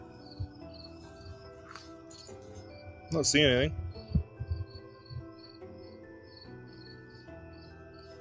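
Crickets chirping at night in a conservation area during a light drizzle, a steady high pulsing chirp throughout, with a person speaking briefly and a sharp squeaky burst midway.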